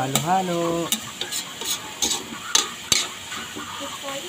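Sautéing for pancit in a pan: a continuous sizzle with a series of sharp utensil scrapes and knocks against the pan, spaced about half a second apart. A brief voice opens the clip, then stirring goes on alone.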